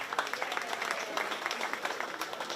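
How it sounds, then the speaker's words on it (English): Spectators at a county fair 4-H swine show give the pen of 3 exhibitors a round of applause, a brief, fairly loud patter of many hands clapping in a large space with faint crowd murmur underneath. "Let's give all of our exhibitors in the pen of 3 competition a nice round of applause."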